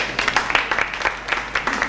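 A small group claps at an office branch party, giving a brief run of uneven, moderately close clapping with no voices.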